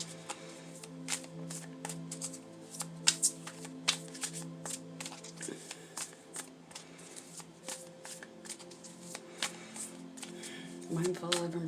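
A deck of tarot cards is shuffled by hand up close, making repeated quick riffles and papery flutters with taps between them and a bigger riffle near the end. No one speaks.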